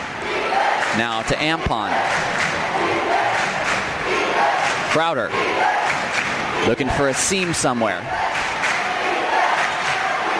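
Panther fans roar loudly and steadily at a girls' varsity high school basketball game, St. Mary's against Salesian, the crowd noise filling the gym beneath a play-by-play announcer's continuous commentary.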